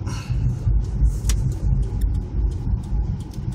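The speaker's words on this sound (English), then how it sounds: "the car will just slow down under the power of its own engine" A manual transmission car engine slowing down in gear, a steady low rumble under engine braking that holds at a moderate level with no talking.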